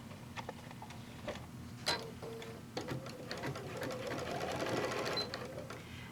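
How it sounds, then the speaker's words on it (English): Sewing machine basting a seam on a pillowcase with a long stitch length, running in steady close bursts with short pauses, rhythmic mechanical whirring and ticking that grows more continuous toward the end. "I'm just sewing a little bit on either side of that seam"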